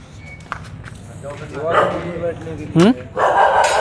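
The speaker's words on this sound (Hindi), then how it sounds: "इस साइड में कुछ कुत्ते भौंक भी रहे हैं।" Dogs bark in the village of Garhi Chajju near Samalkha, India, with a few short barks in the background while nearby people talk over them.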